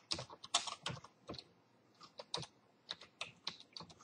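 Steady typing on a computer keyboard while new customer details go into office quoting software, with irregular close, crisp key clicks in short bursts and small pauses, and no talking.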